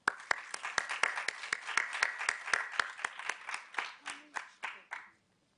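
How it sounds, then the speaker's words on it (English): A conference audience applauds with distinct, rhythmic claps that run steady at first and then thin out and slow down before stopping, heard at a moderate distance with no talking. "A round of applause, please."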